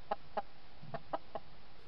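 Garden chickens give five short, soft clucks in an irregular rhythm, slightly distant and faint over a quiet outdoor background.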